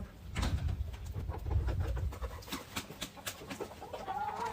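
Guinea fowl on a poultry farm give scattered, overlapping clucks and calls at varying distance over a low rumbling background, with a few sharper cries near the end.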